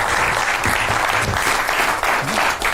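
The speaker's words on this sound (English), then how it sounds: "Give them a round of applause as they make their way out." Audience applause at a magic show fills the room, a steady, dense clapping that holds loud and continuous throughout.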